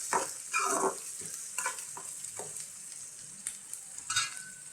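Onions and green chillies frying in a pan, with a few bursts of sizzling and scraping stirs near the start and again near the end, and a quieter steady hiss in between.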